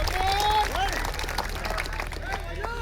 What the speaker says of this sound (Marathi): कराय की टाळ्या मंडळी त्याच्यासाठी।